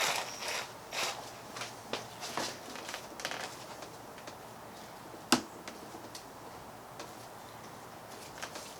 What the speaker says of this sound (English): gently tighten up this hose clamp